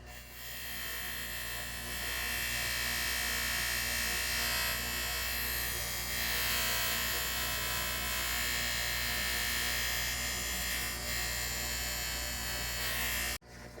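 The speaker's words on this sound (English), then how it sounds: "I'm gonna buff them just for a second and then clean them." Chrome chime parts from a classic Bally Strikes and Spares pinball machine are pressed against a spinning electric buffing wheel, a steady whining motor hum with rasping friction that swells and eases, ending in a brief bump.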